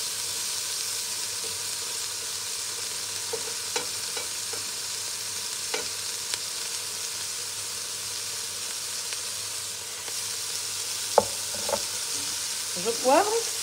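A shrimp bisque with a bouquet garni cooks in a pan with a steady, even sizzle and hiss, broken by a few faint clinks and a short stir toward the end.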